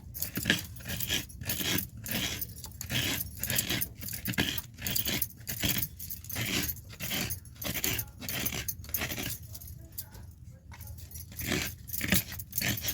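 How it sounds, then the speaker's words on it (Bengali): A whole coconut is scraped by hand against a grater in a home kitchen, producing continuous rapid rasping strokes in a steady, fairly loud rhythm with brief pauses between passes. "সম্পূর্ণ নারকেলটা এইভাবে আমি কুড়ে নেব।"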